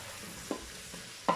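A spoon stirring pumpkin, potatoes and onions sweating gently in a saucepan, two quiet scraping strokes over a faint low sizzle.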